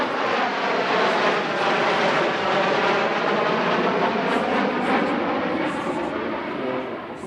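A trio of Sukhoi Su-22 M4 jets flying past at the Radom Airshow, a loud sustained engine roar with shifting tonal whine that holds strong then slowly fades as they pass.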